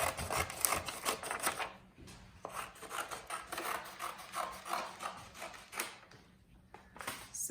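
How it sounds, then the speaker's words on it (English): Scissors cutting paper into strips for a craft, repeated snipping and rustling close by in uneven bursts with short pauses, with no voices. "I'm just gonna cut some paper into strips."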